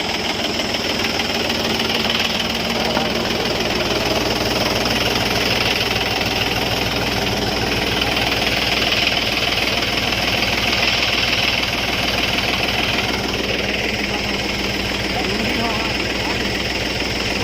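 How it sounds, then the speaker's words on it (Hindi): A diesel tractor runs steadily on a farm being prepared for soybean sowing, a loud close continuous engine drone with a rhythmic chug that lasts the whole time. "और एक इधर ये ट्रैक्टर चल रहा है"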